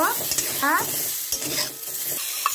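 A spoon stirring grated ginger into an eggplant mixture in a pan, with several quick scraping strokes over a soft sizzle, close up and moderately loud, no speech.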